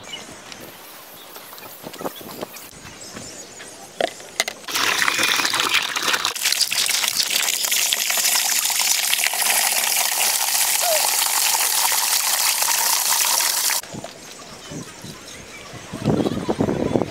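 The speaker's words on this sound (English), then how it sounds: "gonna fill the bucket up with a fat pile of water" A bucket fills from a strong gushing stream of water, a steady loud rush lasting about nine seconds before it cuts off, with scattered knocks and voices before and after.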